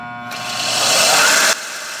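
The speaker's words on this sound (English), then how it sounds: "When the belts are new, they are stiff, so I have to give my machine a push start." Belt sander fitted with new, stiff surface conditioning belts, push-started and whirring up briefly: a broadband grinding hum swells over about a second, holds, then drops off abruptly, leaving a lower residual whir.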